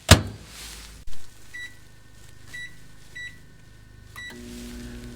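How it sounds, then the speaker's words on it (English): Steady hum of a microwave oven running off a generator at a winter campsite, with a loud thump near the start and a few short beeps partway through. "this afternoon, I want the microwave and Jimmy Dean's"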